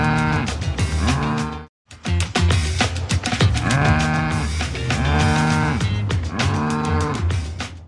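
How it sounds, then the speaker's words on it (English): A cow, the animal belonging to a congressman, moos loudly and repeatedly in long, harmonically rich calls, nearly continuous over several seconds with one brief silent gap early on, close and alone. "it's a doozy about Devin Nunes's cow"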